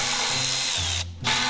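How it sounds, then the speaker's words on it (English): A power tool spins out gas tank mount bolts on a 1969 Rokon motorcycle, with a loud, close whirring drill drone that shifts pitch, cuts out for a moment and then starts again. "The front actually has two bolts that I'm going to pull right now"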